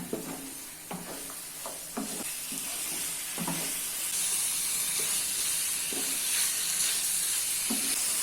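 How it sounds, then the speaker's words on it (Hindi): Chicken stir-fried for garlic chicken over a high gas flame, a steady rising sizzle and hiss with regular spoon scrapes and knocks against the pan roughly every second. "गैस की फ्लेम को हाई कर लेना है और हाई फ्लेम पे मिक्स कर लेना है।"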